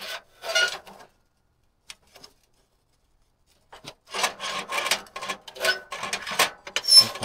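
Scraping out the inside of a pellet burner: gritty metallic rasping strokes, a short burst, a pause of near silence, then a longer run of repeated close scrapes.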